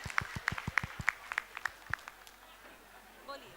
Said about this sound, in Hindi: कृपया एक बार जोर से तालियां बजा करके का स्वागत करेंगे।